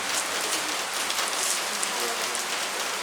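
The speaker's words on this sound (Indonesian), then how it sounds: "suasana hujan" Rain falls steadily at night, a dense, even hiss of drops striking surfaces that fills the scene at moderate loudness, with no clear talk over it.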